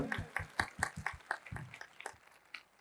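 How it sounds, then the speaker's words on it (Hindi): A church congregation claps in a rhythmic beat, roughly a dozen sharp, distinct hand claps in steady succession, fairly quiet and set back, tapering off toward the end. "आओ उसी नाम के लिए जोरदार तालियां बजाएं"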